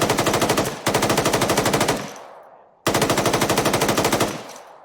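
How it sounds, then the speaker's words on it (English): Two long bursts of automatic machine-gun suppressing fire in ArmA 3, loud and close, each a rapid, evenly spaced stream of shots ending in a fading echo, with a short gap between them. "Suppressing fire into that fucking smoke."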